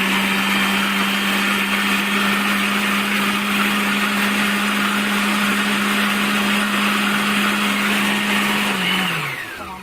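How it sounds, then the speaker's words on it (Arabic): An electric hand mixer whirs steadily as it beats orange cake batter made with Tang, vanilla and cream, a loud constant motor hum that holds for about nine seconds before winding down. "افصل الخلاط شوية، اضرب تاني"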